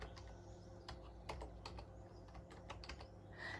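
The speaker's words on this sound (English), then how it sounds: "See, I'm not a touch typer." Typing on a computer keyboard by someone who is not a touch typist, irregular bursts of quiet, close key clicks with uneven pauses, no talk.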